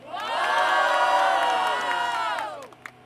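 Crowd at the final of a rap battle cheering, whooping and shouting loudly, a sustained roar of many voices that swells, holds, then fades with a few scattered shouts at the end.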